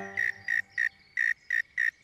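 A cricket chirps close by in a steady series of six short, bright bursts evenly spaced, with no voices.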